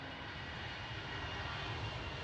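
A British Airways airliner at Schiphol airport, Amsterdam, gives a steady, broadband engine roar that sounds fairly faint and distant, with no talking.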